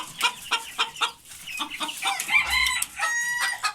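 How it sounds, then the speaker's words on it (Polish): Backyard poultry being let out in the morning, including silkie-cross hens and a white cockerel, with repeated close clucks followed by a rooster's crow, loud and near with short pauses. "Kogucik biały. Kurka taka szara"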